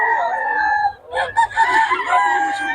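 A Boston Roundhead gamefowl rooster crows loudly and up close, a long harmonic call with a short break partway through, heard alone without talk.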